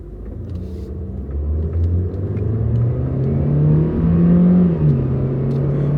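A car engine running steadily on a road test drive after a check engine light repair, a low continuous rumble that gradually builds as the car accelerates, near and loud with no talk.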